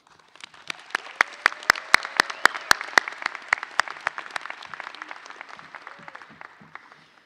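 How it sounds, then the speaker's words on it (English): Applause at a college commencement ceremony honoring education and health sciences staff, starting with loud distinct claps that quickly build, then thinning into scattered, fading claps over several seconds. "Let's give these colleagues some applause."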